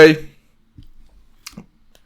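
A computer mouse gives a few soft, sparse clicks, close and quiet, separated by silence.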